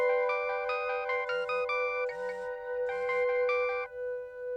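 A phone ringtone plays a bright electronic melody of repeating chimed notes, clear and close, with no voices.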